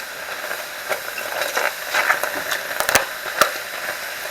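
Mushrooms sizzling in a pan over medium heat, a continuous close hiss with scattered crackles and pops that grow slightly busier toward the end.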